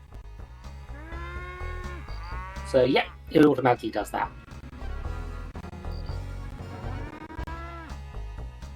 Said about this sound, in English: I'm sure nothing weird will happen with cows in this game.